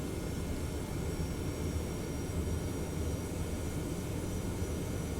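A TFDI 717 airliner taxiing slowly in the P3Dv4 flight simulator, its engines giving a steady, even jet rumble and whine that holds constant throughout, with no voices.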